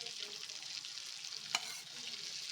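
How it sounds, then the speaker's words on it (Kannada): Bangada mackerel fish fries on a tawa with a soft, steady hiss of oil, broken once by a single sharp tick midway, and no voices. "ಈಗ ಆ ಕಡೆ ಈ ಕಡೆ ತಿರುಗಿಸಿ ಫ್ರೈ ಮಾಡ್ಕೋಬೇಕು"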